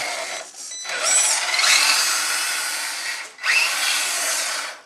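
The electric motor of a Tamiya RC Toyota Tundra high-lift truck whines at high pitch in first gear, running in two long sustained bursts separated by a brief drop, loud and close.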